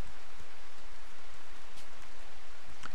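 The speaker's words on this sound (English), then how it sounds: "It's raining." Steady rain in the video game RimWorld, a soft continuous patter of drops with no other sounds.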